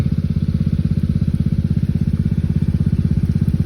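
A farm water-pump engine runs steadily while filling a rice paddy ahead of transplanting, a close, loud, even chugging with a fast regular beat that holds throughout, with no talk.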